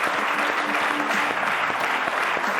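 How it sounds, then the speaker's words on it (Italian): Dense, steady audience applause for a rhythmic gymnastics group at an Italian sports broadcast, a full crowd clapping continuously throughout. "un applauso alla ginnastica"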